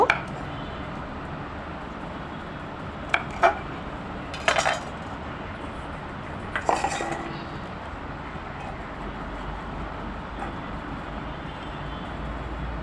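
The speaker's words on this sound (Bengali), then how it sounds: "তো আমি এতটুকু লম্বা লম্বা করে কেটে নিচ্ছি।" A knife strikes a cutting board while okra and other vegetables are cut into long strips, giving a few sharp isolated knocks separated by long pauses over a steady low background hum.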